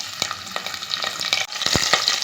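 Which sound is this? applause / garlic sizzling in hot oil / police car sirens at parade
garlic sizzling in hot oil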